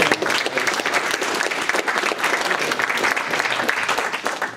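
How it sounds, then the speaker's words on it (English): Applause for a presenter after his first talk at an economics class presentation: steady, dense clapping from a room of people, loud and continuous for several seconds, with little talk. "can I get a round of applause for Brian?"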